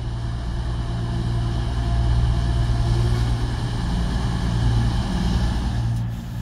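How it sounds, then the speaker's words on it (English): A double-set cross-country Voyager diesel train at St Erth hums steadily, with a deep continuous engine drone that swells slightly and holds for several seconds, fairly loud and without speech. "a cross-country Voyager service for Penzance"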